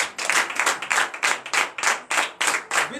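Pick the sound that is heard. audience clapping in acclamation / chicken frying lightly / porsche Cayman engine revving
audience clapping in acclamation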